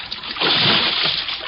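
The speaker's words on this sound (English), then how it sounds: "she jumped. Hey! I ran to the rail and vaulted over into the icy river." A person leaps from a rail into an icy river, a single loud close splash that surges after a brief lead-in and settles into sloshing water.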